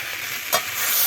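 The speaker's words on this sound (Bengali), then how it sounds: "সমস্ত মশলা দিয়ে সবজিটা এবার কষে নেব" Vegetables frying in a pan with cumin, coriander and chilli powders, a short burst of steady sizzle with one sharp stirring scrape midway.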